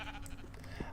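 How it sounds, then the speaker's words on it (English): A single short sheep bleat from Minecraft, played in the Project Ozone modpack, sounding once near the end against a steady background of game noise. "Hey, a sheep."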